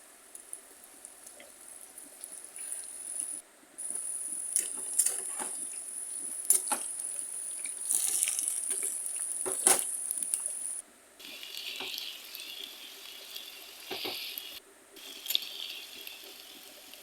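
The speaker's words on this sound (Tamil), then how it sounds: "இது சூடான எண்ணெயில் போட்டு நம்ம நல்லா பொரிச்சு எடுக்கலாம்" Masala-coated okra deep-frying in hot oil gives a steady close hiss and crackle with small popping bursts that shift in intensity, and there is no speech.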